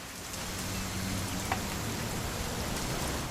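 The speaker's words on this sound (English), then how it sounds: "It's gonna rain the whole weekend," Steady rain falls in What Remains of Edith Finch, a soft, even hiss of drops that holds constant without pause across the whole stretch.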